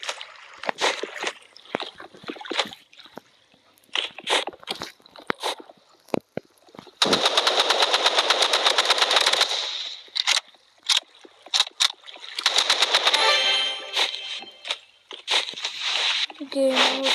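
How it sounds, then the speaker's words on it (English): Assault rifle fire in an online shooter video game comes in two long, rapid, sustained bursts of shots, with someone talking excitedly in between and over the shots. "Fine, now I have that assault rifle."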